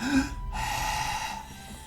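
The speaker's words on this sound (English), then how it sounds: "Let's just breathe out." A single long exhale from one person, a soft steady breath out lasting nearly two seconds, close and alone with no talk.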